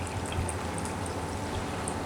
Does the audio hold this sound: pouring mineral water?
yes